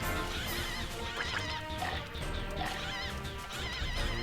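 Chickens cluck and squawk in the PC game Chicken Invaders Remastered, their cartoonish calls layered over a dense, continuous wash of game music and effects at steady volume.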